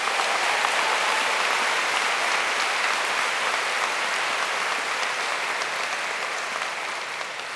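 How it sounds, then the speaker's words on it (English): Sustained applause from a university convocation audience honoring graduates' parents and families at the Boston University School of Medicine, a dense, steady roar of clapping that fades slightly toward the end. "Please give them another round of applause"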